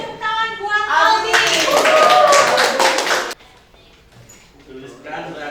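A classroom of chemistry students claps for a classmate named Aldi, a burst of applause lasting about two seconds, preceded and followed by a teacher's voice.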